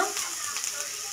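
Chopped garlic sizzles steadily in a hot pan during Bengali-style matar paneer cooking, a close, even frying hiss that lasts only a moment.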